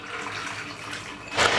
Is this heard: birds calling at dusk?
no